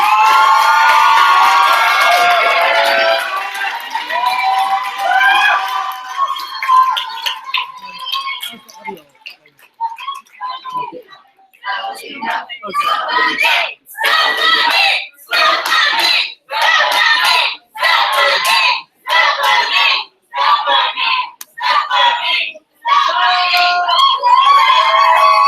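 A student election forum audience bursts into loud cheering, shrieks and clapping, then breaks into repeated rhythmic surges of shouting and applause separated by brief pauses, close and energetic.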